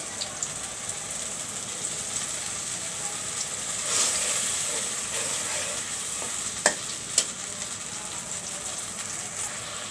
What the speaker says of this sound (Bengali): এখন আমি এখানে দিয়ে দেবো এগুলো একটু কষাই নিব